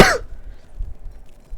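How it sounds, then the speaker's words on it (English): A single short cough from a sick person right at the start, followed by faint low background rumble. "coughing and stuff."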